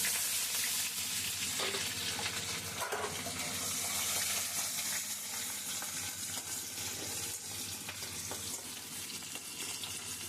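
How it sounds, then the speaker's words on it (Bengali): Sliced onions fry in a pan with dried red chilies, cinnamon and cloves for a mutton dish, giving a dense, continuous, close sizzle that holds steady throughout with faint stirring underneath. "কিছুটা পেঁয়াজ রেখে ভাজবো"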